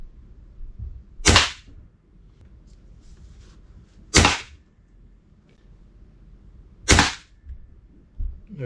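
A Seneca Dragonfly Mk2 multi-pump air rifle fires pellets on five pumps, three sharp, loud cracks spaced a few seconds apart, with quiet handling noise in between and no talking.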